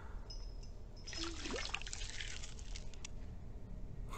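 Liquid pours with a soft, quiet trickle in the hidden-object game Haunted Hotel 9: Phoenix, swelling briefly near the middle over a faint background hum, with no talking.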